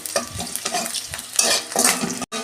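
Chopped onions sizzle in hot oil as a utensil stirs them in quick repeated scrapes, close and continuous, with no one talking.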